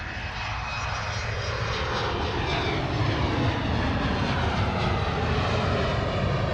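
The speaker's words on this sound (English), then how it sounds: "we got an Austrian Embraer on the roll, already up in the air" An Austrian Airlines Embraer jet roars on its takeoff roll and climb at Manchester Airport, a loud, steady, broadband engine rumble heard from a distance without a break.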